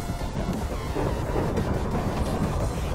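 Loud, continuous rumbling roar of thunder from lightning in Minecraft, with heavy low-end texture, sustained throughout without pauses or voices.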